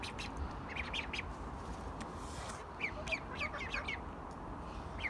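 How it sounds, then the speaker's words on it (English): Chickens and ducks kept together in a backyard pen, a few soft clucks and chirps rising in short bursts over steady outdoor background noise, fairly close and moderately quiet. "The chickens are very well behaved."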